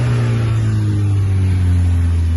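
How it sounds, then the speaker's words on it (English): A Volkswagen Polo 1.4 GTI with a DSG gearbox at 68,717 miles gives a steady, loud, close exhaust drone with strong low engine harmonics, held at constant revs with no talking. "But listen to the exhaust."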